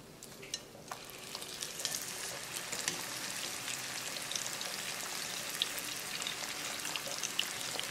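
Pieces of wild Alaskan sockeye salmon deep fry in hot oil, giving a steady, soft crackling sizzle with scattered pops, heard alone without talk.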